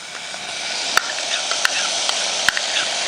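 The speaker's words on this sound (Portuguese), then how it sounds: "Vou dar uma refogada nessa cebola." Finely chopped onion sautés in a pan for stroganoff, giving a bright, loud, continuous sizzle with a few sharp clicks of a utensil against the pan.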